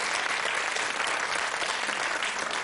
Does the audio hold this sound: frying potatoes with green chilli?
no